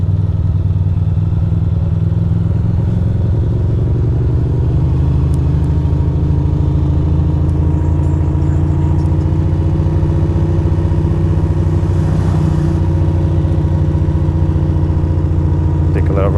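A Ducati motorcycle engine cruises slowly through city streets in Greenpoint, New York, making a loud, close, steady low rumble with slight rises in revs throughout.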